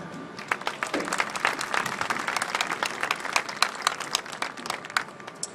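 Brisk, dense clapping from a seated audience greets the introduction of a school marching band's section leaders, a sustained wash of many hands with scattered louder claps near the front.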